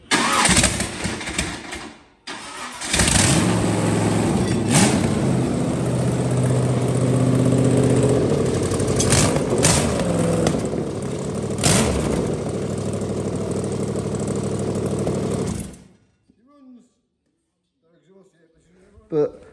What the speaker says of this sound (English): No exhaust, it's a bit noisy, but it works.